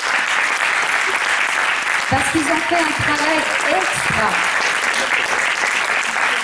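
A church audience gives sustained applause for the young helpers, loud steady clapping throughout while someone speaks over it partway through.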